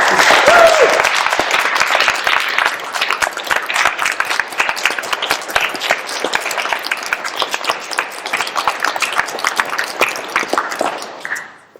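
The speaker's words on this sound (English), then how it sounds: "Let's have another round of applause for the work that you're doing" Sustained applause from a crowd in a room, loud and continuous at first, then a steady patter of individual claps before fading.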